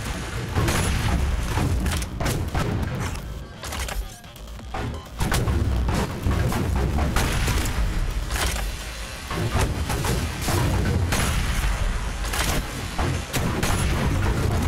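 Dense, continuous gunfire and explosive booms fill a Doom Eternal battle on Nightmare difficulty, loud and relentless with rapid overlapping blasts, briefly easing before surging again.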